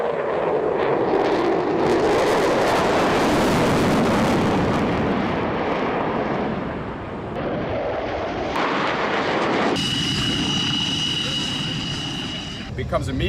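An F-15 fighter jet at an air show roars steadily overhead, its broad engine noise loud and sustained beneath someone talking throughout.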